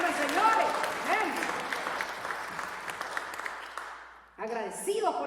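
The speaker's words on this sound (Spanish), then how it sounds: "Démosle un aplauso a Jesucristo." A church congregation applauds in a sustained wash of clapping that fades toward the end before a short burst of sound returns.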